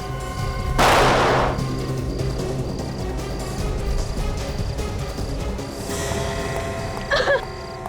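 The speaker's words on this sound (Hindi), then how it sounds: "उसने गोली तो चलाई है।" A single loud gunshot rings out in a tense crime-drama scene, a sharp burst followed by a rumbling decay over a steady ambient background, with a brief faint voice near the end.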